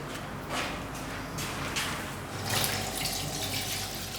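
Cold tap water running steadily into a container for a large batch of croissant dough in a bakery, a close, continuous rushing flow that surges a little partway through, with no talking.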